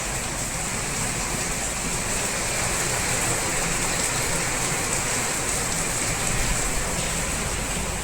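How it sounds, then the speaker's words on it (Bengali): Torrential monsoon downpour beats steadily and loudly on surfaces around a house veranda, a dense unbroken hiss of rain lasting throughout with no voices. "মুষলধারে বৃষ্টি দেখেছেন, সেই মুষলধারে এক নাগাড়ে হয়ে যাচ্ছে।"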